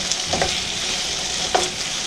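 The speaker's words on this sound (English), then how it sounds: "Ooh, the onions are getting more brown. Potatoes are starting to cook through." Sausage, onions and potatoes frying in a skillet, a steady close sizzle with a couple of brief scraping stirs.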